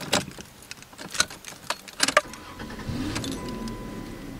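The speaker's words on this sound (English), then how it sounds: "Remember how I told you the engine sounded really good for this being 30 years old?" A 1993 Chrysler New Yorker Fifth Avenue starts up: keys jangle and clicks sound first, then the engine cranks and catches into a smooth, steady idle with a faint whine, heard close.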